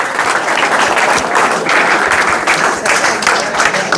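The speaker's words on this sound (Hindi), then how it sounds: "ताली बजनी चाहिए, ताली बजते रहनी चाहिए।" An audience applauds at a gathering in Halai Bazar, Samastipur, a dense, steady wash of many hands clapping that holds at an even loudness throughout, with no clear speech on top.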